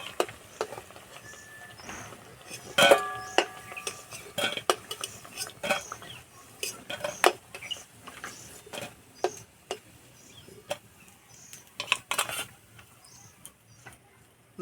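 Metal utensils clink and tap against a pan while fried mung dal fritters are lifted out, with sharp, irregular clicks scattered throughout and no talking.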